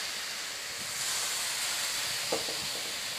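Water sprinkled over bati dough balls cooking on heat, a soft steady hiss of steam that swells midway, with faint clinks of the pan near the end.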